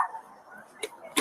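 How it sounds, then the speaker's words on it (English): A dog barks in short, faint yips, a couple of brief sharp barks off in the background amid a low murmur of noise. "It's a dog. You can't stop the dog from barking."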